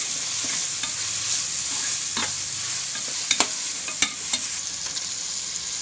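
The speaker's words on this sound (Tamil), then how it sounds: "கொத்தமல்லி தலை ஒரு கைப்பிடி புதினா தலை ஒரு கைப்பிடி ரெண்டு பிரிஞ்சு இலை இதெல்லாம் போட்டு நல்லா வணக்கி விடுங்க" Tomatoes with coriander leaves, mint and bay leaves being sautéed in a pan, a continuous close sizzle with a few scraping stirs and clinks near the end, no talk.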